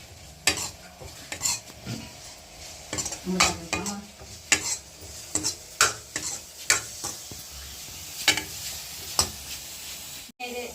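Green chilies and ginger frying in a pan for ginger chutney, a steady sizzle broken by repeated sharp scrapes and clinks of a spoon stirring against the pan, close and clear.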